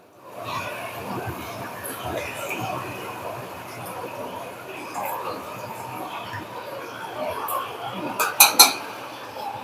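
Crab curry stirred in a metal cooking pot, a soft scraping and clinking of a spoon against the pot running steadily, ending in a few sharper metallic clinks near the end.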